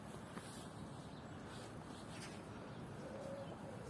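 Faint birds coo and chirp among green fir trees in Bratislava, Slovakia, against a steady outdoor background hiss, with a short tonal call near the end.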